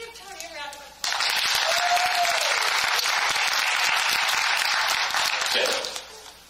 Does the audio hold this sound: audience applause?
yes